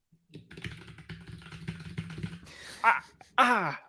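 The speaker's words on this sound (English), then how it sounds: "joined by a man with the world's loudest keyboard" Rapid, loud clacking of a computer keyboard being typed on, followed by a couple of short vocal sounds after the typing stops.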